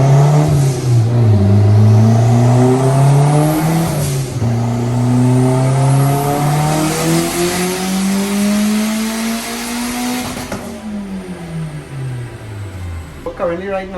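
A Mitsubishi Evolution III rally car running E85 flex fuel revs loudly and close, its engine pitch climbing and falling through several rising sweeps before winding down, with a voice talking over it.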